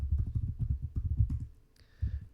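Rapid typing on a computer keyboard, close and fairly loud, in dense bursts of clicks with a brief pause before a final few keystrokes.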